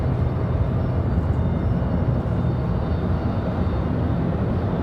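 Delta airliner taking off from runway 23 right at Raleigh-Durham, a steady, loud broadband jet roar that holds constant and close throughout with no voices.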